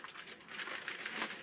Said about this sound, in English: now we need to remove this plastic bag